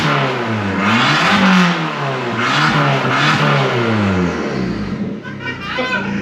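Abarth 595 engine revving hard after a decat install, loud rising and falling engine revs with harmonic sweeps across the whole clip, close by, with voices briefly audible near the end.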